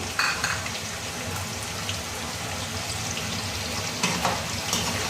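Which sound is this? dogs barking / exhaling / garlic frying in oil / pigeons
garlic frying in oil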